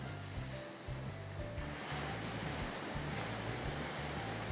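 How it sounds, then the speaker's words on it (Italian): Ocean waves breaking on a beach make a steady, full wash of surf close by, with a low rumble underneath and no speech. "Aspetto un'onda per raccogliere dell'acqua."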